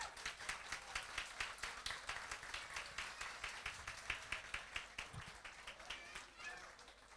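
An audience at an event claps in a steady run of close, even claps that taper off near the end.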